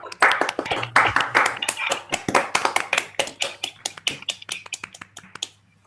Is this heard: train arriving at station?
no